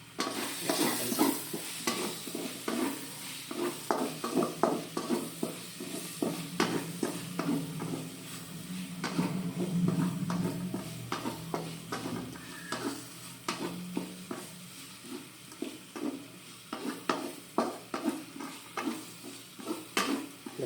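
Onions with seasoning and ground black pepper stirred and fried in a pan, a steady close sizzle broken by frequent scraping stir strokes throughout, with no talk.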